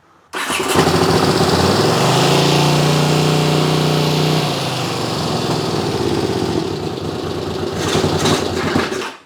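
A Honda CX500 motorcycle engine catches and runs loud and close for several seconds, its rough tone smoothing as if a second cylinder briefly fires before it settles to a steadier idle.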